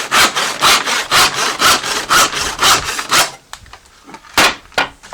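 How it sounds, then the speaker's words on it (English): A handsaw cuts excess off a wooden board in a quick series of rasping back-and-forth strokes, loud and close, about a dozen rhythmic strokes that slow to a few scattered scrapes at the end. "Wherever you have excess, you cut it off."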